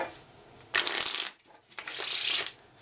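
Playing cards shuffled during a close-up card trick, heard as two quick, crisp riffling bursts separated by a brief pause, near and fairly loud with no voices.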